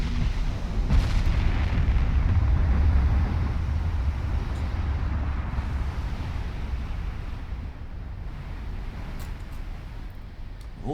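Naval gunfire and shell hits in the warship game Ultimate Admiral Dreadnoughts: a deep booming blast opens, then a heavy rolling rumble of distant explosions fades slowly over several seconds, with no voices.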